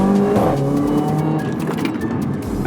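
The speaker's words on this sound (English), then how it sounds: "the car sounds absolutely insane" A Mercedes A45 AMG engine with an aftermarket downpipe, decat and exhaust roars loudly and close, a raspy exhaust note revving and shifting in pitch with a brief whining tone.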